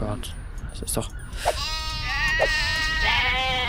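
Sheep in the video game Black & White 2 bleat several times in wavering calls, layered and close, while someone talks excitedly over them.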